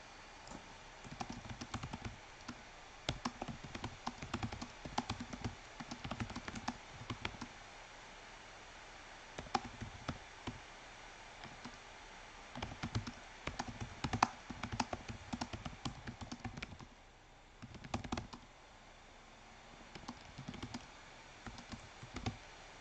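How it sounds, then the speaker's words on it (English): Computer keyboard typing during a Python coding session, with bursts of irregular key clicks and pauses, fairly close and moderately loud, with no talking. "I'm just gonna type in something a little more interesting here."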